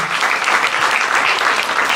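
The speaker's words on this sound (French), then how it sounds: "J'aimerais ça qu'on donne une bonne main d'applaudissement, honnêtement." An audience gives a young singer a warm round of applause, loud continuous clapping that stays full and even from start to finish with no talking over it.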